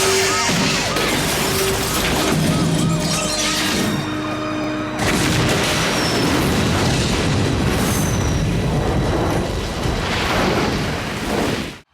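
Action-film explosions from The Silencers (1996): loud, continuous booming blasts and crashing debris fill the whole stretch, with a sharp cut partway through and bursts layered over a dense roar.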